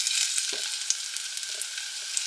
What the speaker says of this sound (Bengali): এবার এটা হালকা করে ফ্রাই করে নেব।